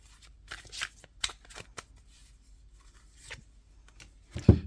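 Tarot cards shuffled and drawn, a run of crisp riffling flicks and slaps spaced irregularly, close and fairly quiet, ending in a louder handling thump.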